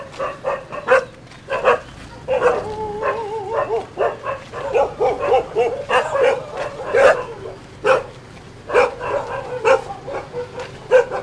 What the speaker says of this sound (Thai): ไปเรียกเจ้าของบ้านออกมาไปเห่าทำไม